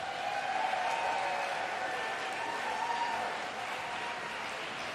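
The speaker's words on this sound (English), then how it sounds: "receive your short applause" Audience applause for a competing women's quartet at a regional barbershop quartet competition, a steady wash of clapping heard from a distance, fading slightly near the end.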